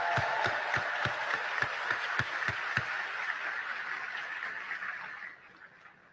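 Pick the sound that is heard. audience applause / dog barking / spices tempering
audience applause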